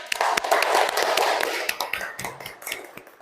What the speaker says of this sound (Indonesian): tepuk tangan untuk Mbak Mili